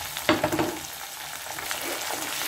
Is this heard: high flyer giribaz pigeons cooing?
no